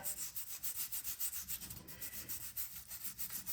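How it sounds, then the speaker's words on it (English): A brush soaked in brake cleaner scrubs the metal engine block of an Ariens snow blower, giving a steady, close rhythmic rubbing with repeated strokes and no talking. "I got a little brake cleaner on a brush here. I just want to clean up the area,"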